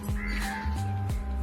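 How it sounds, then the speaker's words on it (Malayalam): A crow caws loudly twice in quick succession outdoors near a vegetable garden, harsh calls with a faint background hum. "കിളികളുടെ കലകലാരവും അണ്ണാന്റെ സൗണ്ടൊക്കെ"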